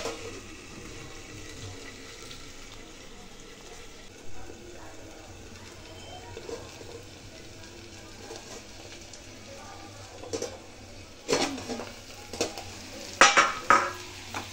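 Okra and potato curry with amchur fries in a pan: a low background sizzle, then sharper stirring scrapes and clatters of utensil against pan that build up toward the end.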